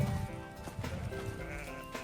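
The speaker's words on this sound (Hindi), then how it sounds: "तो इसमें जो है बकरी दोस्तों बच्चा दिए हुए हैं, छोटे छोटे इनके बच्चे" Goats, including small kids, bleat in a livestock pen at a Saudi Arabian farm, a few wavering nasal calls overlapping at moderate distance amid faint background noise.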